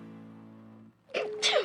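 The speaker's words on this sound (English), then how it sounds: "That sneeze was in a different zip code" One sharp human sneeze bursts out close and loud right after a soft, steady hum fades, a quick two-part explosive blast on a sports radio show.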